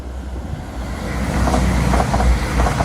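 A southbound Meridian passenger train passes near Toadmoor Tunnel at Ambergate, its low rumble swelling to a loud, close roar with faint rhythmic wheel clatter on the rails.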